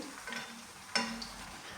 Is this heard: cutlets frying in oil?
yes